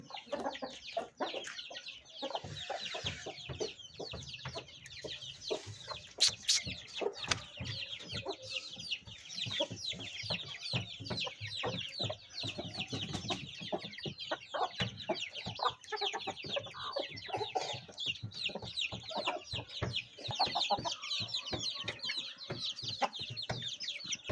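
A hen clucks steadily and repeatedly while laying eggs, close and fairly loud. Rapid overlapping clucks and squawks run throughout, and other fowl can be heard in the background.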